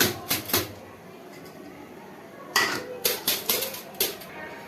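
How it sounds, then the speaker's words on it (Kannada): Fresh coconut being scraped by hand while cooking a ridge gourd stir-fry, heard as clustered bursts of scratchy, metallic rasping strokes, a few at the start and a quicker run of strokes later, fairly close with no talking. "ನಾವಂತೂ ಹಸಿ ಕೊಬ್ಬರಿನ ತುರ್ಕೊತಾ ಇದ್ದೀನಿ"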